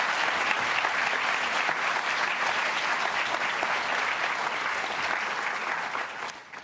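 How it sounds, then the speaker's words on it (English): An audience at the 2024 NSW Premier's Literary Awards ceremony applauds the judges: sustained, dense clapping from a large crowd that stays steady throughout and fades slightly at the end. "I'd ask you to give them a round of applause on their behalf"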